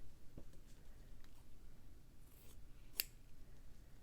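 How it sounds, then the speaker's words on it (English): Scissors cutting quilt batting, heard as faint, close snips spread across a few seconds, with one sharper, brighter cut near the end against a quiet background. "Cut the batting to the approximate size."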